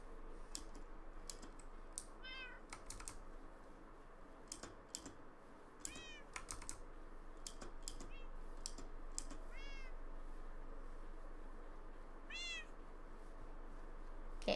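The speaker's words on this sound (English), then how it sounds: "let's take these cats home." Cats meowing in the Minecraft video game, several short rising-and-falling meows spread across the stretch, with steady computer keyboard typing and clicking running underneath throughout.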